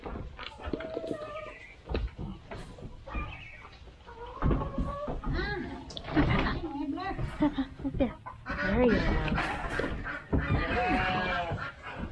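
Busy turkey chatter with repeated clucks, gobbles and squawks from several birds close by in a farm carrot patch, fairly loud and continuous, with some human talk mixed in.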